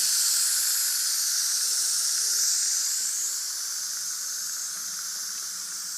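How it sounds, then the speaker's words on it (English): Steam releases from a Fagor 3-in-1 pressure cooker holding chowder with potatoes and carrots, a loud continuous hiss that holds steady and then eases slightly toward the end, with no other sounds. "We're going to release the steam now again."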